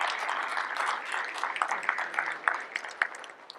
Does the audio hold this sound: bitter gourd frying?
no